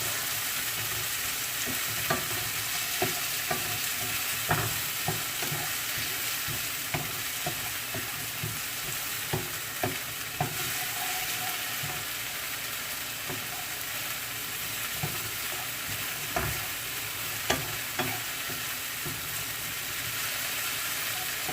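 Seasoning frying over a low stove flame for a ground turkey and egg breakfast, heard as a continuous even sizzle with intermittent spatula scrapes and taps against the pan, close and steady, no voices.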